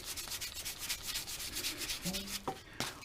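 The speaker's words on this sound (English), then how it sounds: "Look what it does to the freaking sandpaper." Sandpaper rubbing over an axe head in quick repeated strokes, a close, raspy scraping rhythm, followed by a few short clinks at the end.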